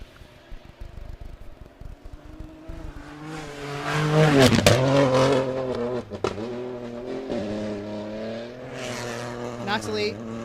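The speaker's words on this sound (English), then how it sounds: "Now this is another Peugeot 208." A Peugeot 208 rally car on a stage, its engine rising from distant to a loud nearby pass with sharp revving and gear changes, then fading, with a commentator talking over it.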